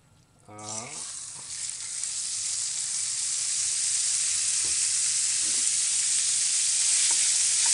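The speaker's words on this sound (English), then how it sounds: "make sure that the pan is quite hot when you put it in, so the meat actually fries and doesn't boil" Big chunks of whale meat dropped into a hot pan, an initial burst of contact noise followed by a steady, building sizzle of frying, close and continuous.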